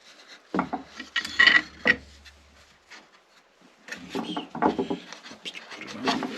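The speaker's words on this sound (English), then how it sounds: "We'll continue applying clamps until we have clamps all the way around." Clamps going onto the tail block of a mandola under construction, with a few brief wooden clacks and rubbing scrapes in two bursts separated by a quiet gap.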